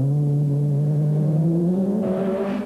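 Rally car from the 1997 Autumn Trail, driven by Hubbard despite poor handling, storms through a forest stage: a loud, close engine note rising steadily in pitch as it accelerates, with a burst of gravel or road noise near the end.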